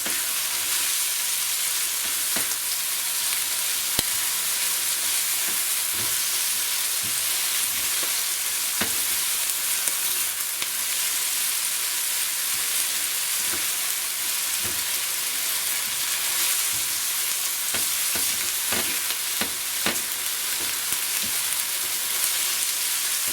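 Green chilies and capsicum frying in a pan, heard as continuous close sizzling and crackling with scattered sharper pops and occasional stirring scrapes, steady throughout, with no talking.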